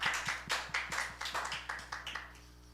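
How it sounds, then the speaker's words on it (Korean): Church congregation clapping in praise to God, a brisk run of roughly a dozen sharp, evenly spaced claps that sound close and moderately loud over a low steady hum, gradually softening toward the end. "일단 하나님께 영광의 박수 올려드리겠습니다."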